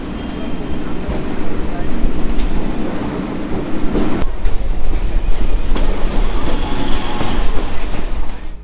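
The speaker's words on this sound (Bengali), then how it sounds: "আর ট্রেন এখন ঢুকছে ব্যারাকপুর।" Passenger train in West Bengal pulling into Barrackpore, heard from a seat inside: a loud, continuous rumble with rhythmic clacking of the wheels and occasional squeals, while voices carry on nearby.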